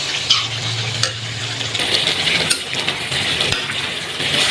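Tender meat for igado, the Ilocano dish, sizzling and frying in a pan while being stirred, with steady close crackle and occasional metal clinks of a utensil against the pan throughout.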